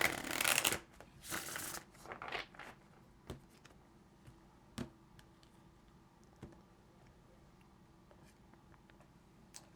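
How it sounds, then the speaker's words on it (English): Tarot cards are shuffled close up in a quiet room, a few quick riffling bursts at first, then scattered soft taps and ticks of cards being handled. "let's get one more shuffle"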